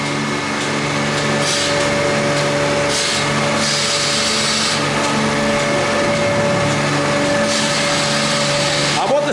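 Motors running in a car wash equipment room, a steady loud machine drone with a constant whine and humming tones, plus intermittent hissing bursts, and a voice speaking over it.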